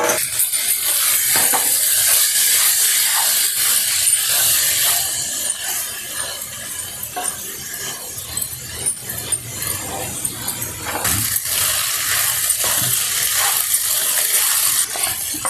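Poha being stirred into hot tempering in a pan, a steady sizzle with scraping and rubbing strokes of the spoon, close and continuous, with no talking.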